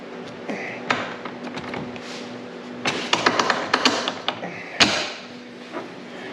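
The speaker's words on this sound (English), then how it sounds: "So rubber hammer, I guess." A rubber hammer taps on a ZRP front shock tower mount during installation on a Can-Am Maverick X3, giving a cluster of sharp, close knocks mid-clip and one louder blow near the end, among quieter workshop clatter.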